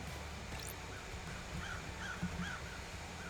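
Crows cawing in the video game Paradise Killer, a few harsh calls spread across the clip, faint and at a distance over a steady ambient background with no talking.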